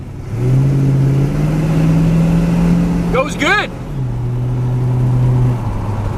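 A 1963 Chevrolet Nova two-door hardtop with a V8, turbo 350 three-speed automatic and 10-bolt rear end drones steadily while driving, rising briefly as it revs, with someone speaking a few words over it.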